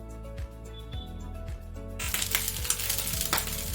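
Jeera rice is stirred in a frying pan, with soft scraping at first and then a dense, close sizzle and rattling grains through the second half.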